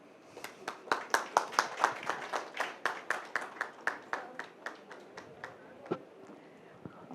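Applause at a film music launch event: a modest group claps in a quick, even rhythm, fairly close and crisp, swelling briefly and then thinning out toward the end.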